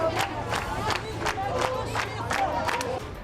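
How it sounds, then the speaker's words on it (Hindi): A large protesting crowd fills a street, clapping and chanting slogans in a steady rhythmic pulse of roughly two beats per second, dense and continuous throughout. "सैकड़ों की तादाद में सड़क पर उतरे लोग ताली बजाते हुए नारेबाजी करते नजर आए"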